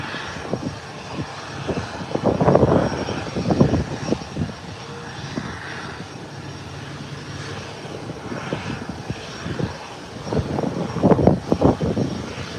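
Airplane departing the airport, its engine roar rising and falling in swells at a moderate distance, with louder bursts of broadband noise near the start and end.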